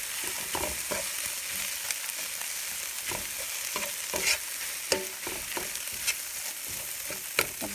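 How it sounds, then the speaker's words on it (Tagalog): Ingredients for a mackerel omelette being sautéed in a pan: a steady, close sizzle of frying with repeated scraping and clacking stirring strokes, with no talking. "Igisa po natin."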